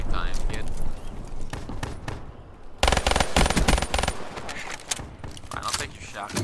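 Shotgun blasts from Call of Duty Black Ops 3 ring out as a rapid burst of loud, sharp shots amid busy game sounds, with a person talking over them.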